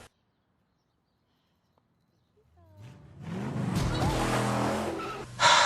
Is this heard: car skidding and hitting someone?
yes